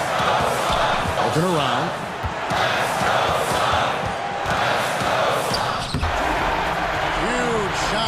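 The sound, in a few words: crowd cheering after a huge shot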